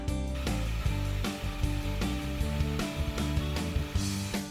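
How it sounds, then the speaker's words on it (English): A blender running on high, blending chickpeas for hummus, makes a loud steady motor whir with a droning whine and rough grinding pulses as the contents churn, close to the mic. "just pop those in. and then blend it really good. You may want to do this step for 1 or 2 minutes on high."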